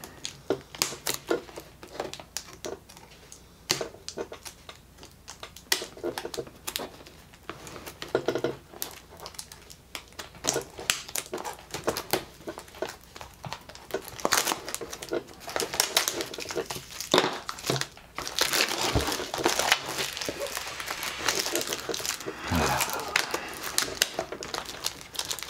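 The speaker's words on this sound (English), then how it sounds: "Let us open this booster." A Battletech TCG limited edition booster pack wrapper torn open and handled, giving a long stretch of dense crinkling and crackling foil close by, loudest toward the end, with a person talking over parts of it.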